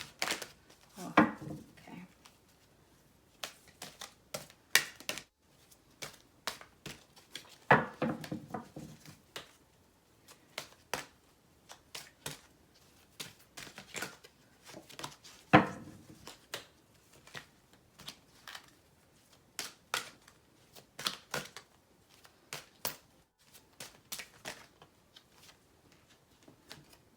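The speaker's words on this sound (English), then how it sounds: "This deck is incredibly hard for me to shuffle with my tiny, tiny hands." Crisp shuffling of a tarot card deck in repeated bursts of riffles and slaps, close up, with short pauses between handfuls and no talking.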